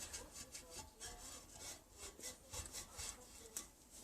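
Steady back-and-forth rubbing at a motorcycle brake caliper on a Triumph Bonneville America, a soft rasping scrub repeated in a rhythm of short strokes, close and fairly quiet, with no voices.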